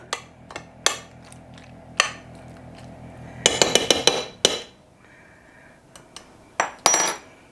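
A macaroni pie mixture being stirred in a dish, heard as scattered clinks and knocks of a utensil against the dish, with a quick cluster of sharper clatters midway. It is close and fairly quiet between the hits.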